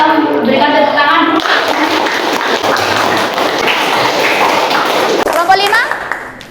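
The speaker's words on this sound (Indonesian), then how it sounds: "Silakan berikan tepuk tangan" A classroom group claps after a student presentation, a dense patter of many hands that swells and holds for several seconds. Voices are heard just before and after the clapping.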